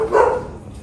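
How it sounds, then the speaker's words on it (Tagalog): A single sharp bark from a dog, loud and close, with a short tail of room sound afterward. "Ito yung aso natin."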